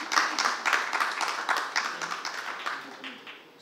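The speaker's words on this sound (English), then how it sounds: "can we have a quick round of clapping for yourself" A conference audience at a finance-technology session gives a short round of clapping, the claps coming as a fairly dense patter and fading out by the end.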